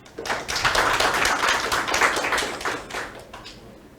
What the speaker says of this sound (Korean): 다시 한번 큰 박수로 부탁드립니다.